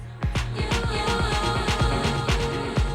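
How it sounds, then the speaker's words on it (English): A punchy repeating beat with kick hits runs through the echo effect of a Reloop RMX95 DJ mixer, each hit trailing into quick rhythmic repeats that smear together. "echo, which sounds like this."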